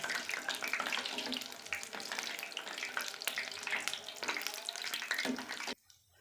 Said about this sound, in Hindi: इसे आपने तलना है और आहिस्ता आहिस्ता ऑयल जो है वो ऊपर डालते जाएंगे